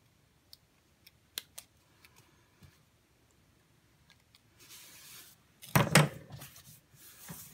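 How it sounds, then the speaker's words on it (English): Paper snips cut around stamped wording on a card, giving a few isolated crisp snips early and then a denser run of close, papery cutting and rustling. "I'm going to take my paper snips, and I'm just going to go around"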